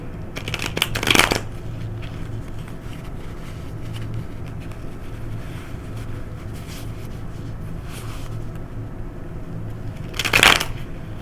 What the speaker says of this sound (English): let's start with a good shuffle here